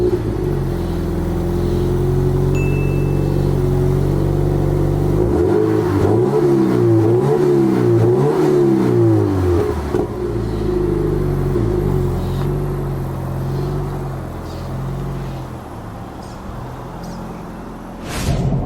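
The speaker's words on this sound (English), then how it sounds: "we're out in the GT86 on the road now" A modified Toyota GT86 drives on the road and accelerates, its engine rising through revs in a loud, sustained drone with sweeping pitch changes from inside the car, then easing back to a steady cruise.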